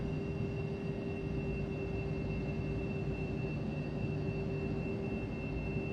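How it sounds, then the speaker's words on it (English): An MD80 airliner engine drones steadily in a flight simulator with an add-on sound pack, giving a constant rumbling cabin hum with fixed whining tones, even and unbroken throughout. "Fernando, no, this is the immersive audio pack for the Mad Dog."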